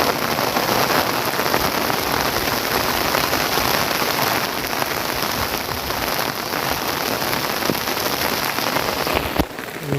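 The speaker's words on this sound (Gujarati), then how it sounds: "વરસાદ એની ચાલુ છે બંધ નથી" Persistent rain keeps falling during flooding, a steady close wash of drops drumming on surfaces for the whole stretch, loud and even, with a brief knock near the end and no speech.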